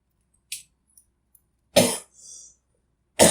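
Three sharp, dry coughs ring out close and alone in a quiet room, spaced apart with near silence between them, plus a short breathy throat sound after the second.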